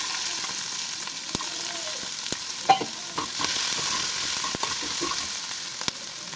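Two tablespoons of chopped garlic fry lightly in a small amount of oil for a garlic chicken gravy, making a soft continuous sizzle broken by sharp clicks and scrapes of stirring.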